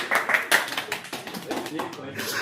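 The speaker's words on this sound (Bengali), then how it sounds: "জোরে একটা হাততালি হয়ে যাক" Students in an eleventh-grade classroom clap loudly together, a burst of rapid overlapping hand claps that thins into scattered claps within a couple of seconds, close and bright, with voices faintly underneath.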